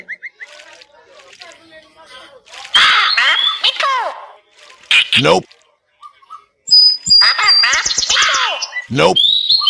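A talking bird in the Meena video game sounds off in bright, close chirps and squawking calls, scattered in bursts among splashy effects and other game noises.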